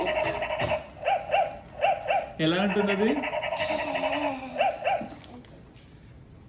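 A voice imitates a dog with a run of short, high-pitched yapping barks, about eight in all, while an adult talks briefly in the middle.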